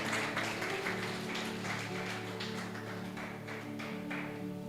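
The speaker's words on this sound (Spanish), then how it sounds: "Ahora sí aplauda." A church congregation applauds in rhythmic, steady group clapping during a service, heard over a sustained musical tone that continues underneath.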